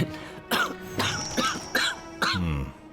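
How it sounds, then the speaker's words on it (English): A woman breaks into a coughing fit: a run of about five harsh, close coughs in quick bursts, with throaty, voiced catches between them. "She chuckles herself into another coughing fit."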